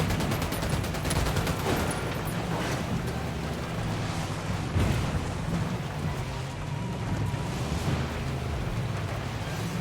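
Sustained gunfire in Ghost Recon Wildlands crackles as a steady, dense fusillade at moderate loudness, with an occasional sharper report standing out from the continuous rattle.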